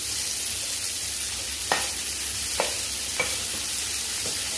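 Sliced okra with salt being stirred in a pan, a soft steady sizzle with several distinct scraping strokes spaced about a second apart, close and alone.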